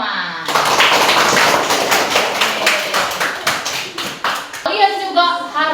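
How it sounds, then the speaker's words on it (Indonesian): An audience claps hands together at a Catholic religious education class performance, a dense burst of close applause that thins into scattered separate claps toward the end, with no talk over it. "mari kita beri tepuk tangan dulu untuk kita semua"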